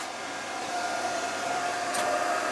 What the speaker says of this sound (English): pop our welder on.